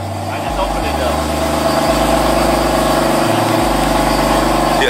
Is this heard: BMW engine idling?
yes